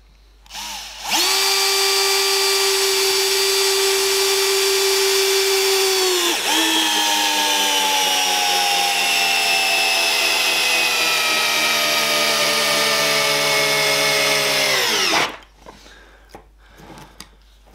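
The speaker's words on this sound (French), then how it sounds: "Allez, on va visser l'autre." A Bosch GSR 12V cordless drill/driver drives a 6x100 screw into hard oak. It gives one long, loud, steady whine of about fourteen seconds that dips briefly midway and slows slightly in pitch as the screw seats, then stops.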